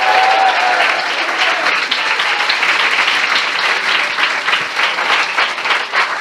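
Loud, sustained applause from a large audience at a Christian worship service, dense clapping filling the whole stretch with no break.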